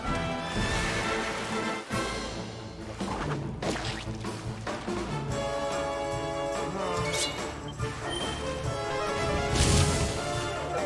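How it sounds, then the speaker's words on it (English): Loud horse neighing and whinnying over hoofbeat clip-clops in Dragon Quest XI S, with dense game sounds and music layered throughout, fairly close and steady. "we got a wild horse."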